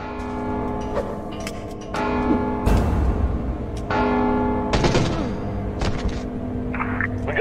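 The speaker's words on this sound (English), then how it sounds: "Don't you hear the bell?" Bells ring in the Mark of the Ninja video game, several loud resonant strikes a second or so apart, each ringing out and overlapping the next, with faint ticking in the background.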